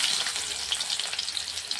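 Onions sizzling in hot oil with mustard seeds and cumin in a pan, a steady bright crackling fry heard alone at moderate loudness.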